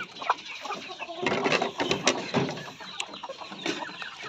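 Native chickens clucking up close in a yard, a busy run of short overlapping clucks and squawks at varied pitch, loud and lively with no talking.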